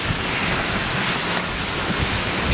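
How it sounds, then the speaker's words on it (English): Ocean waves wash steadily against the hull of a moving Carnival Mardi Gras cruise ship at sea, a loud, continuous broadband rush mixed with wind buffeting the microphone, with no voices. "The waves hitting, honey."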